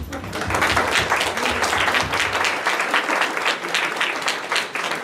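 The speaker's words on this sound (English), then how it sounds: "So now we can clap now." An audience applauds at the close of a city council Ward 3 candidates forum, with dense sustained clapping from a room full of people, steady and fairly loud throughout.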